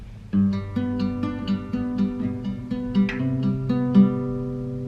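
Plucked guitar notes ring out in a steady riff, a sliding pitch change partway through, played close and clear with no talking.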